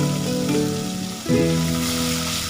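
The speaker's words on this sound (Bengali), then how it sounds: "আগে আমি তেল গরম করে কড়াইতে চিংড়ি মাছগুলো একটু লাল লাল করে ভেজে তুলে নেব" Prawns sizzling in hot oil in a wok, a steady bright hiss held close for a couple of seconds under sustained tonal background music.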